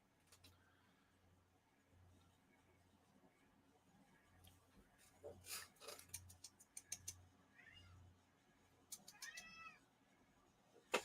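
House cat meowing indoors to be let out, several faint scattered meows with some sharper clicks and knocks, heard over a quiet room hum.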